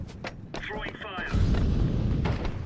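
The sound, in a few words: incendiary grenade thrown and igniting in a Counter-Strike video game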